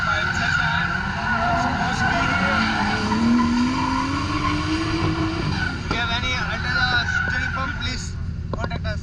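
A Nissan 180SX S13 drifts with a sustained engine roar and squealing tires, loud and close throughout, while people talk over it.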